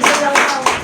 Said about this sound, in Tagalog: isang malakas na palakpak para sa Panginoon